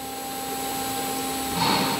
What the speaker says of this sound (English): If we press start button, the machine will go to measure T1 only.